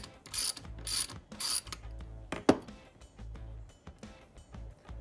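A ratchet loosens a bolt on a Ford 4.6L/5.4L 3V modular engine, with a few close ratcheting bursts and a sharp metallic knock partway through, against a low background hum.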